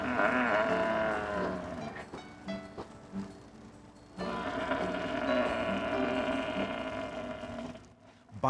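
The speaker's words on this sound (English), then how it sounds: "The raspy bellowing of a bison herd is unmistakable." A bison herd bellows in long, raspy, overlapping calls that rise and fall across several seconds, loud and close, with a brief quieter gap in the middle before the low roaring resumes.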